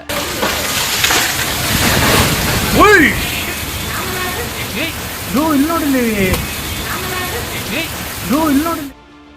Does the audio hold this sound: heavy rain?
yes